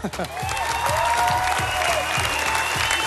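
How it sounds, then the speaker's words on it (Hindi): Studio audience applause on a televised dance show, broad sustained clapping and cheering with a tonal musical sting running beneath, steady and loud throughout. "एक बार तालियां हो जाए इनके लिए।"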